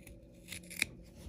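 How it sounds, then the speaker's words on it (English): Scissors trimming the fabric seam allowance on a curved seam of a backpack being sewn, giving one crisp, close snip against a quiet room background. "I'm just going to cut that off."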